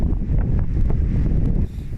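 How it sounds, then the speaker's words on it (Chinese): Strong typhoon wind at Lüdao and the southern Taiwan coast roars steadily into the microphone, a loud, dense rumble with gusty buffeting and no voices. "绿岛甲南势的风嘛真强"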